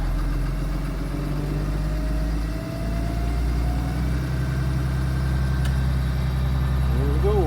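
A 2009 Blue Bird Vision school bus engine idles steadily, a low, even diesel rumble close by with a faint whine rising over it, while someone talks over the running engine.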